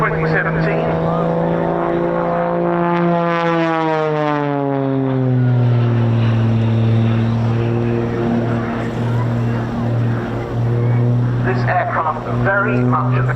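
An Extra 300 aerobatic plane flying a display, its engine drone sweeping down in pitch as it passes and rolls, loud and steady throughout, with a commentator talking over it.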